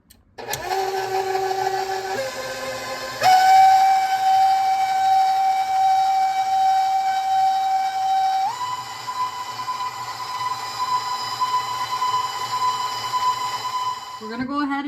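Electric mixer blending molasses cookie dough in a bowl, a steady loud whir with sustained tonal hum that shifts pitch as speed changes, running continuously before a brief knock at the end.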